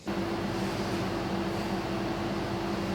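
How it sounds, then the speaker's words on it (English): An air conditioner runs on its lowest speed setting, a steady low hum and broad whooshing airflow that starts abruptly and holds unchanged. "It's the sound of the air conditioning and it's just at the speed 1"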